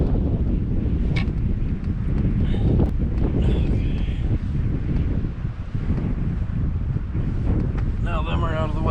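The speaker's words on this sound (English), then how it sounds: "Man, that wind's kind of chilly." Chilly outdoor wind rumbling across the microphone beside a 2004.5 Dodge Cummins truck under repair, a constant heavy roar with faint scattered clinks and a brief distant squeal near the end.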